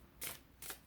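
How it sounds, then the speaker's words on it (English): Tarot cards shuffled in two quick riffling bursts, crisp papery whooshes close to the listener in an otherwise quiet room. "So I'm just going to shuffle and see what we need to know for today and the week ahead."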